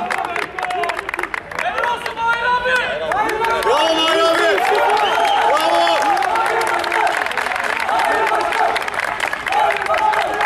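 Applause and cheering from a crowd at the final of a community football tournament, as the club president is welcomed; sustained clapping and crowd noise fill the whole stretch with voices mixed in.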